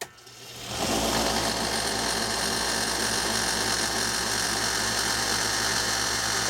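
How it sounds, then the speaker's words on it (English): A belt sander running a leather belt to hone and deburr a knife edge, a steady motor whine with a dense hum that starts abruptly after a short pause and runs evenly to the end, heard alone. "Now I'm going to put the finishing touches on the edge, and what little remaining burr is on there, it's actually get wiped off with a leather belt."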